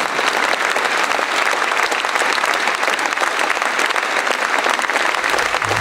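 Steady, dense applause from a large concert audience at a 35th anniversary jubilee show, loud and continuous throughout with no pauses.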